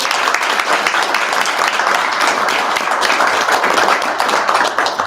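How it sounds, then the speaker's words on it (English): Audience applause fills a meeting room, a dense, steady wash of many hands clapping at close range that holds loud and even for several seconds before tapering slightly at the end. "So one more round of applause."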